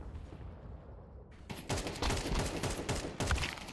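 Shooter video game gunfire bursts out after a quiet opening, with dense overlapping shots, loud and close, continuing as rapid volleys to the end.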